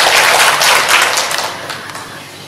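Audience applause at a school teachers' ceremony, a dense burst of clapping that is loud at first and gradually thins and fades over about two seconds.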